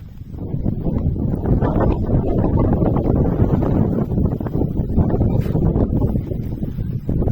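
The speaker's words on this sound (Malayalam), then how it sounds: "ഈ രണ്ട് സൈഡിൽ നിന്നുള്ള കാറ്റ് ഇവിടെ ഇങ്ങനെ നല്ല രീതിയിൽ അടിച്ചു കയറുന്നുണ്ട് കേട്ടോ." Strong wind sweeps across a rocky hilltop viewpoint along the Kalliyamkadu trekking trail, buffeting the microphone as a constant low roar for several seconds, with no talking.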